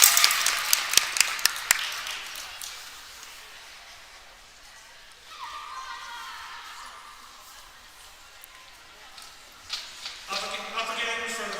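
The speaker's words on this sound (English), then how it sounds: "And a big applause from the hometown faithful." Hometown crowd applauds at a youth U13 AAA hockey skills competition: scattered claps and cheering at the start that fade into arena murmur, with a commentator talking later and a brief rise of crowd noise near the end.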